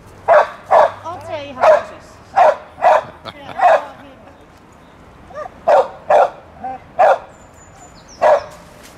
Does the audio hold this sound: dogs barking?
yes